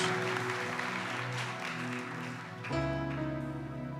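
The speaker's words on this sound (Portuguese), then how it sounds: "Pode aplaudir Jesus por isso?" Church congregation applauding during a baptism service, a continuous spread of clapping mixed with held organ or keyboard chords that shift partway through.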